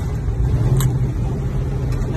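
A semi truck pulling a 53 ft trailer rumbles close and loud as its engine revs through a downshift from ninth to seventh gear, a steady low drone with a brief swell in the middle.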